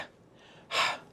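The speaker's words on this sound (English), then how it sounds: "you can hear that breathing in the background." A sharp, breathy inhale in a tech house vocal sample stands out near the end after a quiet stretch, close and soft.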